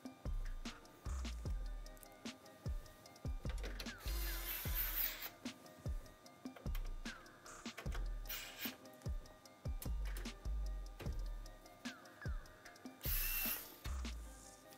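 Screws being driven in while a gaming PC is assembled in a Phanteks P500A case, with a run of sharp clicks and scraping tool sounds repeating close by and no speech.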